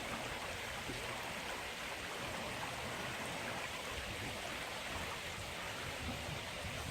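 A babbling stream in a large wooded property runs as a steady, close wash of water, continuous and even throughout with no voices.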